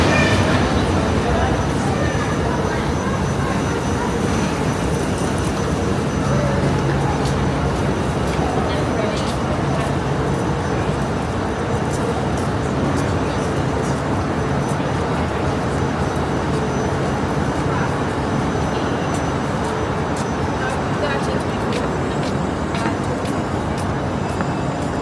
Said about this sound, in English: So this is one of the few trains that's still 458's that are still in this older livery.